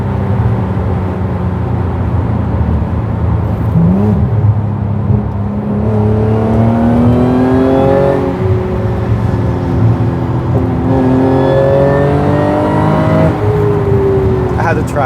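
A 600 hp supercharged car engine accelerates at part throttle, its rising harmonic whine sweeping upward in repeated pulls, loud and close, while people talk over it throughout.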